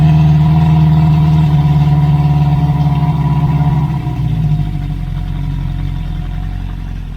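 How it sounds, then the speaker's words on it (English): A 1973 Honda CB350 Four motorcycle idles nearby with a slight exhaust leak, a loud steady mid-pitched engine hum and exhaust drone that settles to a lower, quieter idle partway through. "Looks like we got a little bit of an exhaust leak over here."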